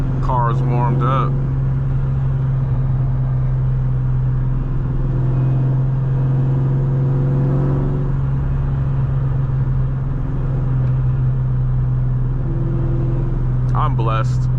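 500 HP 2003 Cobra V8 engine rumbling steadily while driving, a loud constant low drone with a voice talking over it.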